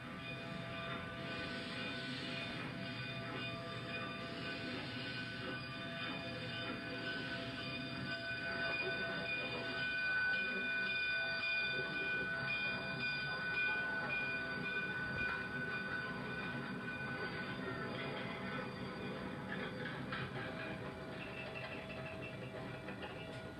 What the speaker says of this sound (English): Upon departure from Antonito, the trains begin heading west.